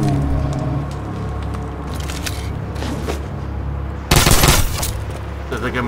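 Dense game soundscape from Shadow Warrior 2, with a loud, sharp burst of automatic machine gun fire cutting in near the end over steady background action noise.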